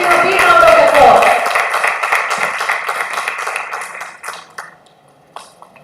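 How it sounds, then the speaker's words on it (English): An audience at a faculty development program claps: a burst of applause that tapers into scattered claps and fades out. "Please give him a big round of applause."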